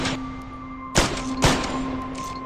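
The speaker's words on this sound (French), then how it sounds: "On entend 3 coups de feu." Two sharp gunshot-like bangs from a Beretta pistol ring out about half a second apart over a steady electrical hum, moderately loud and with no talk.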